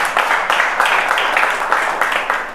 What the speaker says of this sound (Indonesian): Tepuk tangan buat saya ya